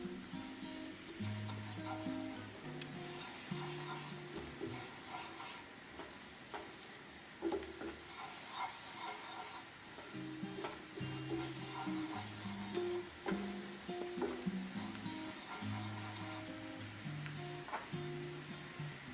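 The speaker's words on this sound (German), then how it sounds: "Jetzt das Pimentón de la Vera und das scharfe Paprikapulver dazu. Nur kurz im Öl aktivieren, damit nichts bitter wird." Smoked Pimentón de la Vera and hot paprika powder fry briefly in oil for patatas bravas sauce, a steady soft sizzle with intermittent stirring and scraping sounds, close and alone without talk.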